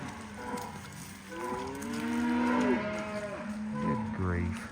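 Several cows moo in long, drawn-out calls on a farm where pigs wander among the cattle, one low bellow following another at moderate distance with no talking over them.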